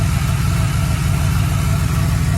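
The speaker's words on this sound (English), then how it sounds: "I'm pretty positive that there's some sort of an idler pulley or something that needs to be addressed soon." A Cadillac Deville engine idles with the hood open, a steady loud low-pitched drone with a constant whirring from a worn idler pulley or serpentine belt running through it.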